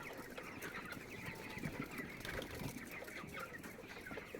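A chicken dust-bathing clucks softly and repeatedly amid a busy, faint farmyard background, with no talk.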